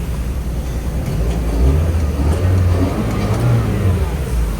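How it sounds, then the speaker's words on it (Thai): A parked car with an automatic gearbox idles steadily on gas fuel, a low continuous engine rumble heard up close with no talking. "รถติด เครื่องอยู่นะครับ ตอนนี้ ใช้แก๊ส ล้วน"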